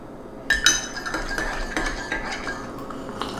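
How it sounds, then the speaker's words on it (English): A spoon whisks chai tea quickly inside a cup, with a steady run of close, soft clinks and scraping swirls. Contact with the cup is sharpest near the start, and nobody talks. "You could just stir it really fast until it gets frothy."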